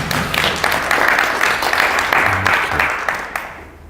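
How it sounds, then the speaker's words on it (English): An audience at a regional plan forum claps together in a steady burst of applause that gradually tapers off over a few seconds. "Let's give him a round of applause."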